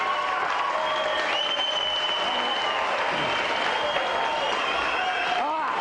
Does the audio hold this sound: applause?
yes